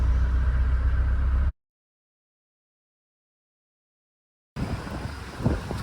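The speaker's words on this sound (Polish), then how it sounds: "pogoda trochę nie sprzyja, bo wieje strasznie, tutaj gdzie jestem" Strong wind blasting against the microphone at a roadside stop during a stalled German motorway traffic jam, a loud broadband roar for over a second, then cutting to silence before gusty rumbling returns.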